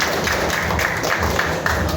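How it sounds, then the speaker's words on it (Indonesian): A school audience applauds the actress who played Nyai Bagendit after a drama performance of Situ Bagendit, a muffled, steady patter of clapping from a group, mid-distance and even throughout. "Tepuk tangan untuk pemeran Nyai Bagenditnya."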